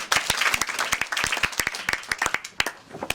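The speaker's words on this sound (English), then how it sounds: "Give yourselves a big round of applause and take a seat." An audience applauds at a university talk in Singapore: dense, rapid clapping from many hands, close and lively, fading slightly toward the end.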